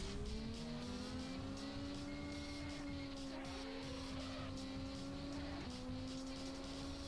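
A 170bhp Honda Beat in the racing video game Auto Modellista, its engine droning in a steady high whine that climbs and holds, with a brief dip as it shifts, continuous throughout.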